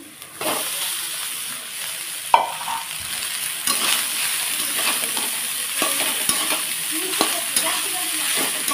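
Leftover rice stir-fried in a pan with onions already fried deep red: a steady close sizzle runs throughout, broken by repeated scraping and clacking stirring strokes.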